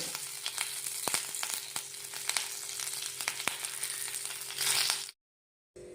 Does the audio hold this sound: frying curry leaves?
yes